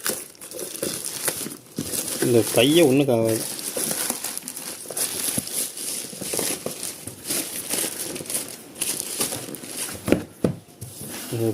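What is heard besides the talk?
tearing open product packaging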